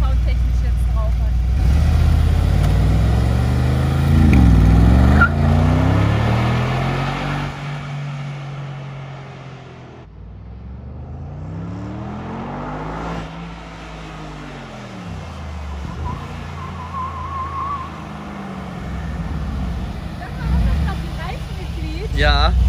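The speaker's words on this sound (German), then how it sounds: "Der klingt schon geil, der macht auch so richtig schön noch so Pops und Bangs hinten raus." Mercedes G63 AMG with side-pipe exhausts revs in long rising and falling sweeps, loud and close, dipping briefly before building again; distinct exhaust pops are not clearly audible.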